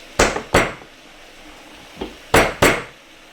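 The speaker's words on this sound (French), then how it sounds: "Alors, les noisettes, on va les concasser." Hazelnuts being crushed in a kitchen for a salmon and leek terrine, five sharp cracking blows in two pairs and a fainter single hit, each a loud close impact followed by brief silence.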